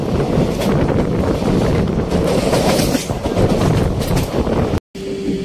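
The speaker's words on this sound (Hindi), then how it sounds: "ट्रेन आ रही है नई दिल्ली से चलकर कालका को जाने वाली" A passenger train from New Delhi bound for Kalka rolls in with a steady, loud rumble and heavy wind buffeting that continues almost without a break.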